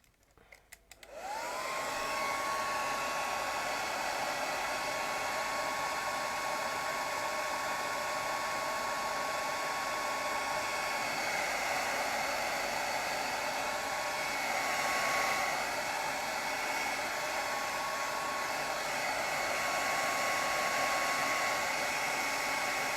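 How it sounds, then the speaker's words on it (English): A hair dryer switches on after a brief rustle and blows steadily at close range, a loud continuous whine and rush of air used to dry a watercolour painting of Old Harry Rocks at sunset. "Let me get the hairdryer on this."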